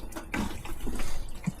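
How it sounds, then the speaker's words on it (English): Cold water runs from a tap inside a van, a steady close splashing stream with a few brief knocks. "It's just all cold water coming through."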